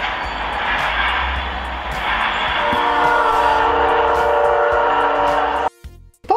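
A train sound from a phone app: loud, sustained train rumble with a drawn-out tonal whistle rising over it, cutting off abruptly near the end.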